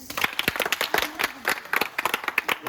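Children clapping for the winning group at a village traditional games event in Sherpur, Bangladesh: a few pairs of hands beat out a quick, slightly uneven rhythm, close and steady throughout.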